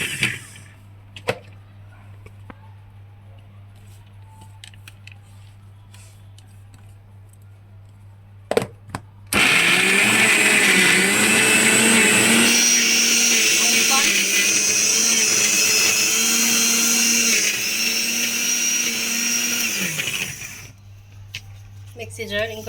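A kitchen mixer grinder jar grinds corn pakoda batter in a loud, steady whirring whine lasting about eleven seconds, with a quiet room and a few faint clicks before and after.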